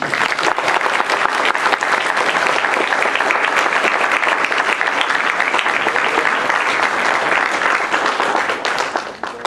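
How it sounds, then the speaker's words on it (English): Sustained audience applause fills a hall at the close of a university panel talk on Palestinian politics, a steady dense clapping held at full strength for about nine seconds before it starts to thin. "Can I get another round of applause for our speakers?"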